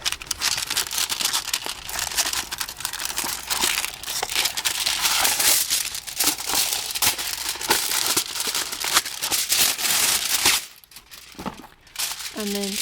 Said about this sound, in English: come and get a piece of aluminum foil